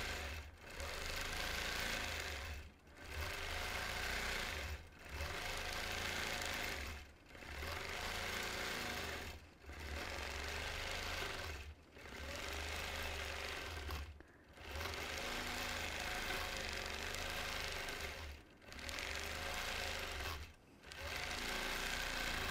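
A home sewing machine stitching during freehand orange-peel quilting, a loud, steady mechanical whir in long runs broken by brief pauses roughly every two seconds, with no voices.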